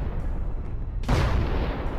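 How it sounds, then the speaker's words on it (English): An artillery strike explodes against a Russian military column in Ukraine, a sudden loud boom midway that gives way to a dense, rumbling roar after low background noise. "several large explosions caused the entire Russian column to be destroyed"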